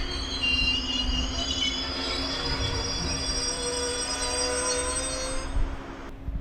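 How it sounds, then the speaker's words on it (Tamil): Express train from Chennai Egmore to Tenkasi entering Sankarankovil railway station, with sustained high metallic wheel squeal over a constant low rumble of rolling cars, loud and close throughout, no talk. "இப்போது ட்ரெயின் உள்ளே என்ட்ராக ஆகிறதாங்க சங்கரன் கோவில் ரயில்வே ஸ்டேஷன்"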